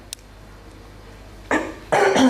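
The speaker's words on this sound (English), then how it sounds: "So, I do need to clear my throat." After a brief quiet pause, someone clears their throat twice, close and rough, the second rasp longer and louder.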